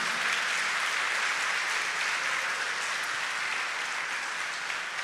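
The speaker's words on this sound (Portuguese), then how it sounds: "Dê uma salva de palmas para ele." Sustained applause from a church congregation during a Sunday Mass homily, a dense, steady wash of many hands clapping at even loudness throughout with no voices standing out.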